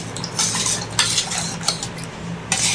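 A ladle scrapes and clinks against a metal pot while prawn paruppu kulambu is stirred, with rhythmic metallic knocks over a soft background hum.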